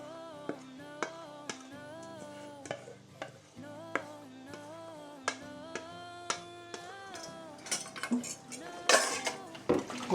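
Plates and utensils are washed while puto steams nearby, with a series of clinks and clatters of dishes and cutlery ringing out at a steady pace over soft background music, getting busier toward the end.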